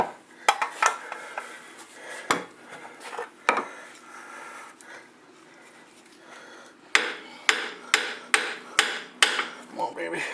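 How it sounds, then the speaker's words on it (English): Hammer blows on metal while fitting a part into a C4 Corvette rear suspension: a few scattered taps, then a steady series of about seven sharp, close strikes. "Grab a hammer."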